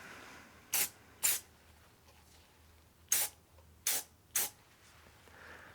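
Mold release sprayed onto a silicone skull mold from about 10 to 12 inches away, five short sharp hissing bursts, close and loud against a quiet background.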